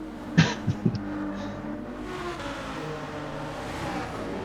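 Racing-game cars roaring on a wet night track as a Toyota Supra pulls away from a Ferrari, a steady layered engine drone with a few sharp bursts near the start.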